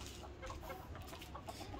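An Aseel hen clucks in short low bursts amid rustling farmyard background noise, close by.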